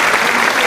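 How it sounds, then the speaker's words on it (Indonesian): A brief, dense burst of applause from a group of people clapping together, loud and close, filling the whole short moment without any voices on top. "Nah, tepuk tangan dulu atuh."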